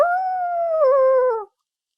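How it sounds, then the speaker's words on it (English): An eerie canine howl from the video game Piper's Pet Cafe, one long loud wavering note that slides slowly downward for about a second and a half, then cuts off into silence. "Is that the eerie howling you mentioned earlier?"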